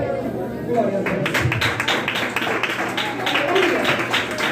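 Church congregation clapping hands in praise, a run of rhythmic, fairly even claps starting after a moment, mixed with voices and singing in a reverberant room.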